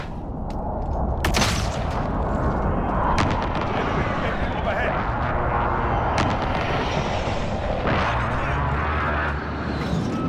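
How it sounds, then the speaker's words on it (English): Heavy precision airstrike explosions thunder in Call of Duty Modern Warfare, a continuous barrage of loud booms and blasts with sharp impacts, while a voice talks over the din. "Friendly precision airstrike on the way."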